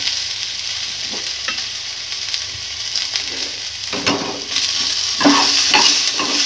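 Ginger fries in a pan on a low flame with a steady, close sizzle, while a spatula stirs it in repeated scraping strokes that grow busier toward the end.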